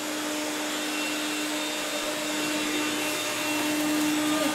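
A vacuum cleaner sucking up hair runs with a steady, loud, even whine and airy rush, continuous and close, with no talking.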